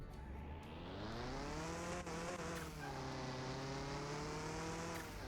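Inline-four car engine held near redline on a test drive in the Car Mechanic Simulator video game, a loud, continuous high rev tone that rises and dips in pitch as the car accelerates, with a faint tire squeal.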